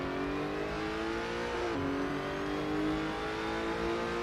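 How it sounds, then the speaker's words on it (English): Lotus Evora GX engine in the Assetto Corsa racing game, holding a loud steady drone that dips and briefly shifts pitch near the middle as gears change, then keeps revving on with no talk. "this is the Lotus Evora GX in Assetto Corsa"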